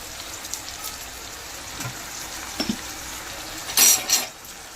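Tomatoes with salt sauté quietly in a pan for crab gravy, a faint steady sizzle broken by a few light scraping stirs and a brief louder clatter near the end.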